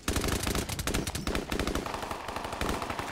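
Rapid automatic gunfire in the video game Call of Duty Modern Warfare Remastered, loud, dense overlapping bursts of shots running almost continuously with brief gaps.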